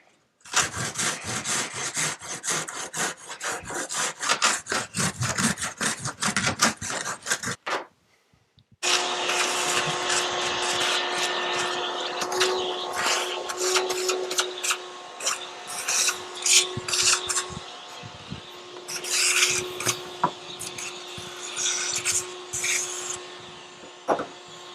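Foam model railroad landforms being smoothed by hand, a close, steady scraping and rasping rub in rapid strokes, broken by a short pause before a tonal hum joins the continued scraping.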